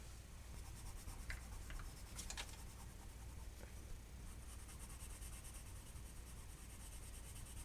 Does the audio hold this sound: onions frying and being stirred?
no